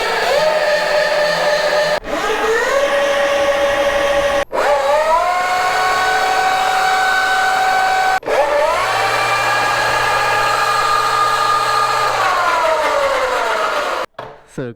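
Electric motorbikes, an E-Ride Pro S and a Surron, throttle up one after another as high motor whines that rise in pitch and level off, repeated in several loud close bursts separated by brief cuts.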